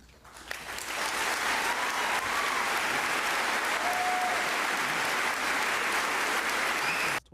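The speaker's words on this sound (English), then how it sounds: "the women there clapped" Sustained applause from a large crowd, a dense steady patter of clapping lasting several seconds before stopping abruptly.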